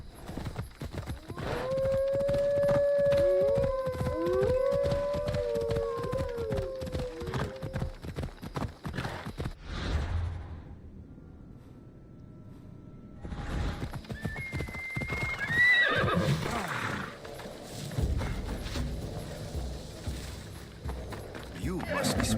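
Horses in the video game Assassin's Creed Odyssey, with a loud whinny and continuous clopping hooves up close, a brief quiet gap, then more hooves and a second shorter neigh over game ambience.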